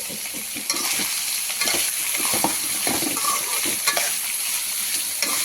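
Sliced ivy gourd (dondakaya) sizzling in a pan with salt, a continuous bright crackling fry with occasional spatula scrapes and stirring knocks, close and steady with no talking.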